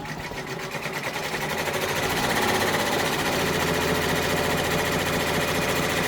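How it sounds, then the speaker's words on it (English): An embroidery machine stitches an OESD freestanding quilt block pumpkin, a dense, continuous mechanical chatter that runs steadily at moderate volume and builds slightly over the first couple of seconds. "It's going to do 6 minutes of stitching."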